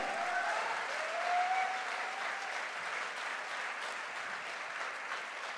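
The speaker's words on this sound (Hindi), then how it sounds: "अरे घनघोर ताली बनती है।" Loud, sustained audience applause fills a direct-selling motivational event, a thick continuous roar of many hands clapping that swells slightly early on and then stays strong to the end.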